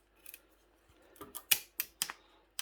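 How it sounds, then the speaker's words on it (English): Snips cut the metal pins off old electrical switches in a series of crisp, close clicks, quiet at first and then several sharper snaps near the end, with no voice. "we'll go with the snips and we'll just snip off the whole lot"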